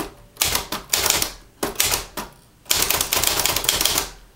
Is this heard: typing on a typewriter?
yes